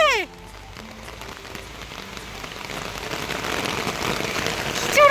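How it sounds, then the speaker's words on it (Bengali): Heavy rain pours down steadily, a dense hiss of drops on surfaces that swells louder toward the end, with brief voices at the start and close. "বৃষ্টি এসে গেছে"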